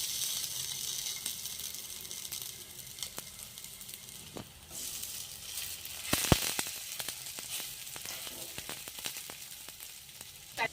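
Snacks shallow-fry in a little oil, a soft continuous sizzle and hiss with scattered clicks and a few sharper spatters and utensil taps, heard close with no voices.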